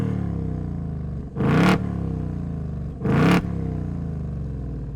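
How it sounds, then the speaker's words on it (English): A 2024 Ford Mustang GT S650 Fastback with the 5.0 Coyote V8 and active quad exhaust in its sportiest mode idles with a deep burble, then blips its throttle twice into short, loud revs. "this is the active exhaust, so let's take a look what they sound like in its sportiest mode"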